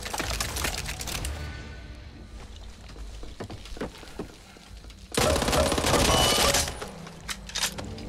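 A Tec-9 pistol fires in the zombie shooter Back 4 Blood: scattered sharp shots, then a loud, fast, sustained burst of automatic fire near the end, with no voices.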